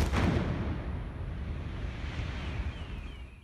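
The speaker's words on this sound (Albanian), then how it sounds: "Ky është momenti i shpërthimit pranë ndërtesës së televizionit privat Sky në Athinë" A blast goes off near the Sky private television building in Athens, with a sudden loud boom followed by a long, rumbling, wind-like roar that slowly fades.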